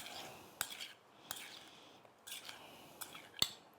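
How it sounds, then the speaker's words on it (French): Ginger, lime zest and pineapple mixed in a bowl in a chef's kitchen, with a handful of sharp utensil clinks against the bowl over soft scraping and a quiet voice. "on va mélanger maintenant notre gingembre, nos zestes de citron vert avec nos ananas"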